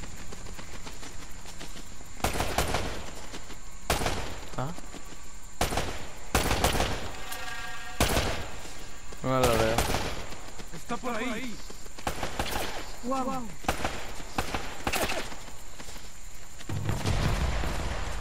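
Repeated bursts of gunfire in the video game Uncharted, sharp and loud, spread across the clip in separate volleys, with people talking between and over the shots.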